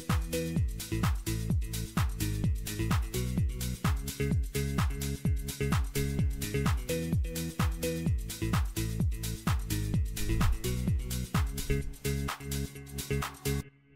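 Dance track in full swing with a steady four-on-the-floor kick, claps, looping hi-hats, guitar and organ chords, a dense driving groove playing continuously with no vocals.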